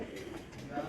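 Teddy breeder pigeons of the Kone Wale breed at a loft in Kasur give a brief, faint low cooing under a voice, with soft background murmur throughout.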